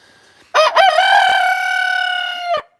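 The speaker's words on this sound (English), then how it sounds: "There's my little rooster saying he agrees with me." A small rooster crows once, loud and close, a single drawn-out cock-a-doodle-doo lasting about two seconds with a quick broken start and a strong sustained tail, with no talk over it.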